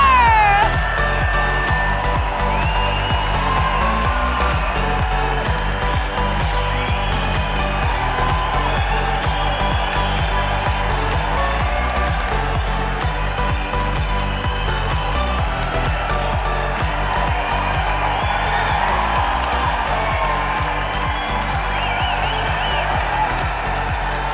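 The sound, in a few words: audience applause and cheering for pageant finalists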